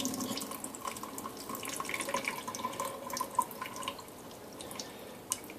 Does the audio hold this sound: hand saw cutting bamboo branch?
no